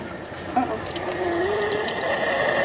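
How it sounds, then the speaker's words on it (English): Water rushes and gurgles steadily out of an RV water heater as it fills, a continuous close splashing flow that grows slightly stronger, with no talking. "All right, here comes the water."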